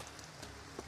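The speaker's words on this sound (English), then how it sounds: "It's raining. It's raining." Rain falling in the video game Two Worlds: a steady, faint hiss of rainfall with soft scattered drop taps and no voices.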